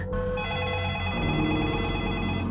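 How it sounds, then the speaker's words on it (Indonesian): A telephone rings in a horror film, a steady electronic ring with held tones over a dense, continuous background of music or ambience, moderately loud throughout. "Telepon bunyi lagi untuk kesekian kalinya."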